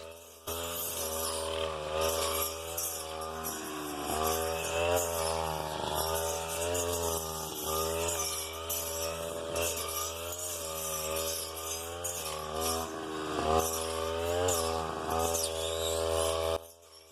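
A power cutter buzzes continuously while pruning tea bushes on a plantation at Gudalur, its engine note wavering slightly as it bites through the branches for about seventeen seconds, loud and close with no talk.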